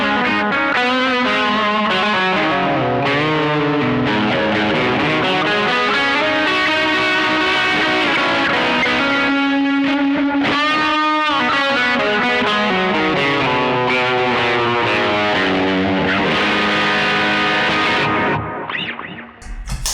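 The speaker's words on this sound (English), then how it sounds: "I'm just going to turn the distortion pedal." Electric guitar chords ring out through a distortion pedal, thick and sustained with rich harmonics, played continuously at steady loudness before cutting off abruptly near the end.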